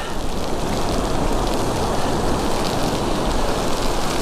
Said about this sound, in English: The rain's coming again.